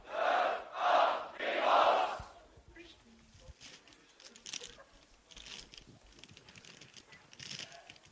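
A crowd at the Grand Beatbox Battle 2025 loopstation event roars three loud, rhythmic chanted answers in call and response, then fades into quieter murmuring and scattered voices.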